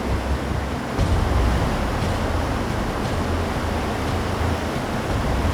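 A dense, steady roar of 2,500-foot Yosemite Falls in California fills the whole clip, broad and loud, with gusty wind buffeting the microphone.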